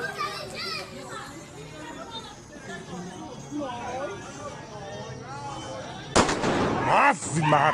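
Firecrackers popping at a family São João bonfire festival night, a sharp nearby blast near the end after lively children's chatter and voices that continue around the bangs.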